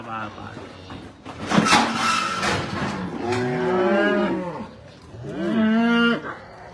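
A stocky, round-bodied cow of mixed European blood, an uncastrated young bull weighing about 314 kg, moos loudly and close on a farm. Two long, drawn-out calls stand out over a noisy background with some voices.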